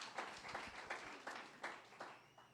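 A church congregation claps together in praise, a faint, distant patter of hands with regular swells roughly every third of a second, steady throughout and without voices.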